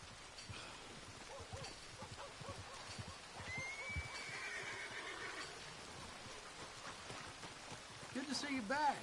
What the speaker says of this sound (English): That's a fine horse you got there.